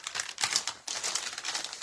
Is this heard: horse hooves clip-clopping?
no